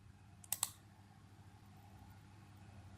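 A computer mouse button clicks twice in quick succession, sharp and close, over a quiet background hum in a room.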